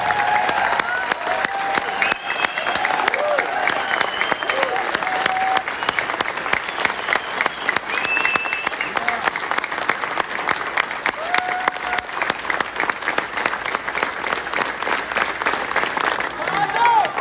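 Sustained applause from a rally audience in Washington DC, dense continuous clapping with scattered cheers and voices that hold at a steady, fairly loud level throughout.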